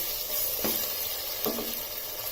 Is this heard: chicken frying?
yes